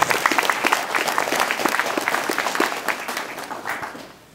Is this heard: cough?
no